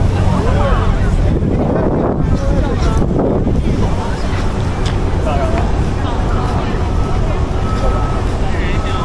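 Steady wind rumbles across the microphone throughout at Merlion Park, Singapore, a constant low roar with faint background activity and no clear speech.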